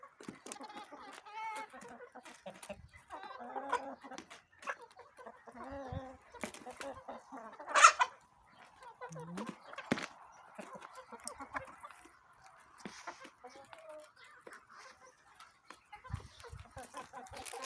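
Several chickens cluck and murmur intermittently nearby in a village, with occasional louder squawks among soft scratching sounds in a quiet setting.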